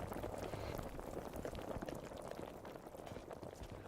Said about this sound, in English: Sounds like bubbles.